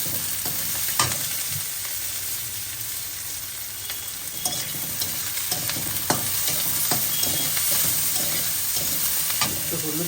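Vegetables with hot chili frying in a pan, a steady sizzle with intermittent scraping of the stirring utensil, close up and with no talk.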